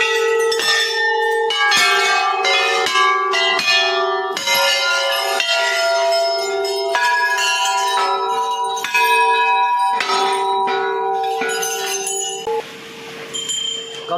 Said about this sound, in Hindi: ये जो यहाँ पे घंटियाँ हैं इनका साउंड मैं आपको सुनाता हूँ बढ़िया करके